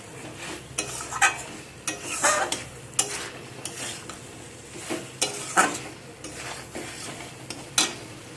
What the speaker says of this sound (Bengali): এভাবে করে মিশিয়ে নিতে হবে মিনিট খানেক